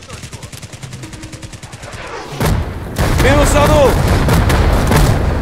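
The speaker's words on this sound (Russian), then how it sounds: "Минометная поддержка за нас." Gunfire and heavy booming from mortar support in the tactical shooter Hired Ops, a rattling volley that swells louder and denser partway through, with a player's voice talking over it.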